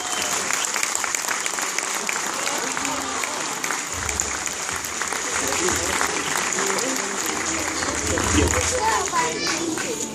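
Audience applause at a Star Wars fan convention in Argentina during a prize handover, continuous loud clapping mixed with crowd chatter and children's voices, with talk over it.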